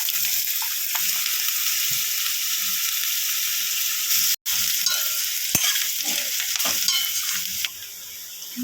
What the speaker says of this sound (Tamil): கட் பண்ணி வச்ச வெங்காயம், கருவேப்பிலை, பச்சை மிளகா எல்லாத்தையும் ஆட் பண்ணிக்கலாம்.